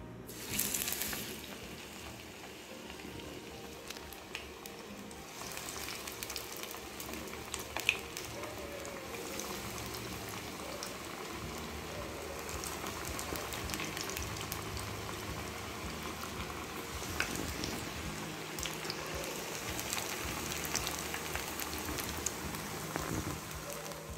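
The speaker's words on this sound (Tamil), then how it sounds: "எண்ணெய் நல்லா சூடானதும் இதை டீப் ஃப்ரை பண்ணி எடுத்துக்கலாம்." Brinjal fingers deep frying in hot oil give a steady, dense crackle and sizzle that runs unbroken throughout, with a bubbling hiss like rain on a surface and no talk over it.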